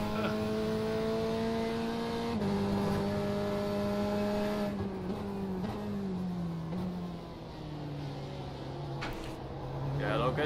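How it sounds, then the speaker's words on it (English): Engine of an endurance race car in the iRacing sim during the 24 Hours of Daytona, a loud, sustained engine drone that shifts pitch through gear changes as faster LMP prototypes approach, with someone talking over it. "There's a faster class car approaching."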